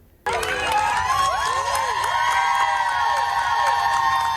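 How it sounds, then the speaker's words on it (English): Medical staff burst into loud cheering, whoops and applause for a discharged 7th-grade girl, a sudden dense crowd of voices that starts abruptly and keeps going. "Watch as medical staff cheer on 7th grader Sophia Forkas"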